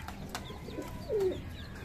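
A single low, soft pigeon coo rises briefly out of a quiet room with faint background noise, with a few light bird sounds around it.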